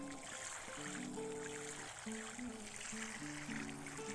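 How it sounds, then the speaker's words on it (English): Water pours from a hose or can onto soil around a newly planted tomato plant in a garden, a soft, steady trickle and splash close by with no talking. "I'm going to water it. Lots of water when we plant them"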